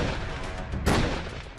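A sharp burst of gunfire cracks through a steady street hubbub in Dhoomanganj, Prayagraj, one loud report standing out midway through the clip.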